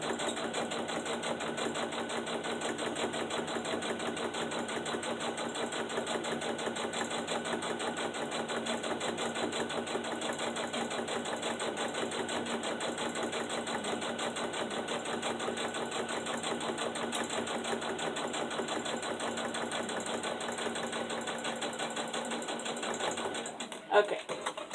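A sewing machine stitches steadily around the edge of a fabric page for a homemade kids' book, its motor whirring continuously at an even pace from start to finish.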